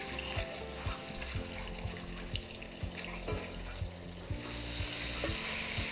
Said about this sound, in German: So, jetzt kommen die Ochsenbäckchen rein. Die werden schön angeschmort.